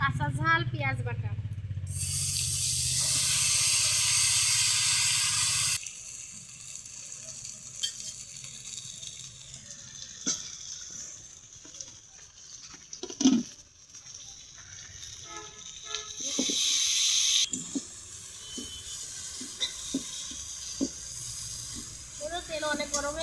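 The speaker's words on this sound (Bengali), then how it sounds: "তেল অনেক গরম হয়ে গেছে, মশলা কিন্তু ভালোভাবে কষে নিচ্ছি।" Whole cumin, dried chillies and ground spices sizzle and hiss loudly in very hot oil in a pan, a steady frying crackle that settles into quieter spitting and stirring.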